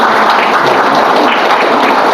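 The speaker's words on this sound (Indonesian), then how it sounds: "Ini tepuk tangan buat Pak." An audience at a motivational talk breaks into loud, dense applause, a continuous close wash of many clapping hands with no voices over it.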